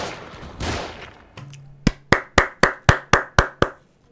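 Gunfire in the survival horror video game The Evil Within, a rapid run of about nine sharp, loud shots at a steady rhythm. A hum sits beneath the shots, and a burst of noise comes before them.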